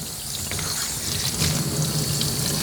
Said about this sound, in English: So I'm gonna rinse this pup out.